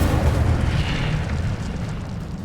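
Incendio fire spell cast in the video game Hogwarts Legacy: a deep, rumbling burst of flame that swells at once and slowly fades, loud and close with heavy low-end roar.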